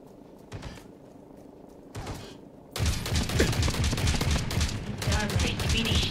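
Rapid gunfire in a PvPvE team shooter, quiet at first with a couple of short bursts, then a dense, loud stretch of sustained automatic fire from about the third second onward.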